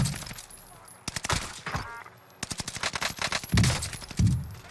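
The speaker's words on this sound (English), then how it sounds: "They're shooting stuff at the chopper." Bursts of machine gun fire aimed at a helicopter in Warzone Pacific, likely a Type 11 LMG, come in rapid repeated volleys with short pauses between them, loud and close, over a high steady whine.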